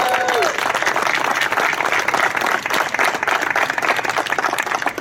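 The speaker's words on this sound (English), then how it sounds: "Can you guys give yourselves a round of applause?" Audience applause at a Founders Day street naming event, dense steady clapping from a crowd filling the whole stretch at even loudness.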